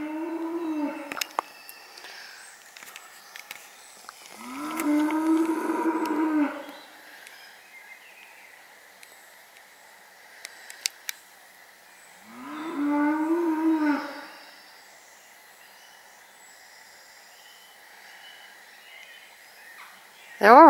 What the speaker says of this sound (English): There are some cows in the field there.